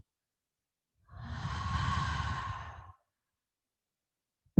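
A single deep breath is let out slowly through the mouth during a relaxation session, a soft, close exhale lasting about two seconds, then silence.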